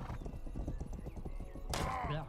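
A horse in a Western video game, with a steady clip-clop of hooves followed by a loud whinny near the end, under faint game ambience.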